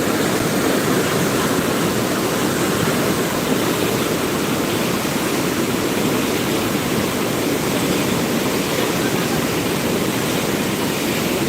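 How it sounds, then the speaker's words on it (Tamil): Steady, loud rushing water roars continuously at Tiruchengode, a dense broadband flow with no pauses and no voices. "இவ்வளோ தண்ணி போயிட்டுருக்கு"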